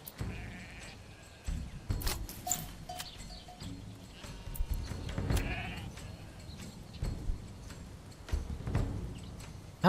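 Sheep and lambs in a Manor Lords farming game bleat repeatedly, several overlapping calls at varying distances, mixed with soft hoof clatter and other game sounds; no talking.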